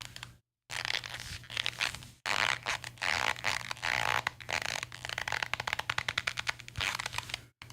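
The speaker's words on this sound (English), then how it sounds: "this is the sound of the belt." A new leather belt being handled up close, giving crisp creaks, crackles and crinkling rubs in irregular bursts.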